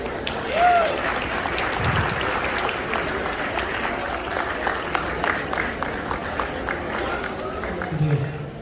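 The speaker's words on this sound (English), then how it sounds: "Let's give a big round of applause for Instant Karma and this amazing couple." A crowd claps at a Dussehra celebration in the Bay Area, steady applause with some cheering and a brief voice or whistle early on, rippling on for several seconds.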